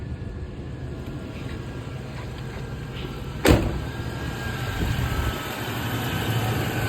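A 1990 Cadillac Brougham D'elegance cranks and fires up with a sharp click and surge, then settles into a steady, fairly quiet idle hum with no talking.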